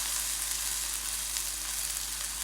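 Ginger paste and cumin seeds sizzle in hot mustard oil as a tempering for khichuri, making a dense, even crackling hiss that holds steady and close.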